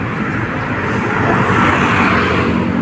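Steady, loud traffic on Roxas Boulevard, with cars streaming past in a continuous broad whoosh that swells slightly midway.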